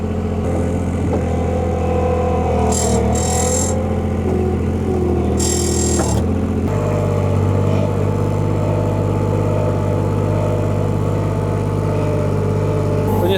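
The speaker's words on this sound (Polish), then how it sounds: "ja tylko troszkę dodam gazu i pojadę do przodu" An Avant compact loader's engine runs loud and close, then the revs rise as the throttle opens and it pulls forward, settling into a steady, strong drone.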